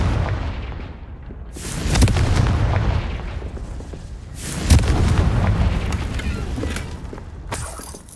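Blasting-spell explosions go off in a wizarding-school fantasy game, two big booms with cracking, crumbling debris and rumbling decay, plus a sharper burst near the end.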